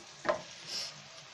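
Onions frying in a pan for a Bengali fish jhal, a soft steady sizzle with a brief clack of stirring near the start, faint and close, with no talking.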